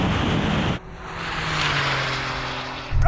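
A Porsche 911 Turbo S and a Suzuki Hayabusa drag racing, a loud roaring engine drone that cuts off abruptly and then settles into a sustained rushing whoosh of speed and wind before the roar returns.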